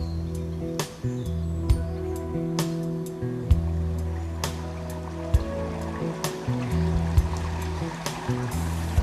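Water pours steadily through sluices at a historic weir, a continuous rushing flow close by, overlaid by a droning hum and scattered sharp clicks.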